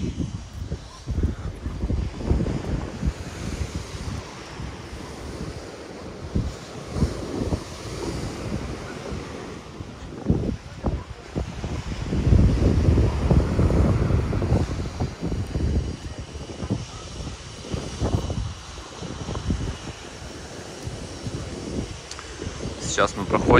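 Gusty wind buffets the microphone outdoors on a stormy seafront embankment in Adler, with rushing low rumble rising and falling throughout, and surf-like noise in the background.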